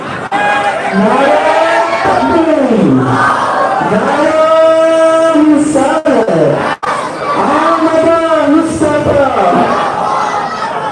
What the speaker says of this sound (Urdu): نعرے لگاؤ رے بھائی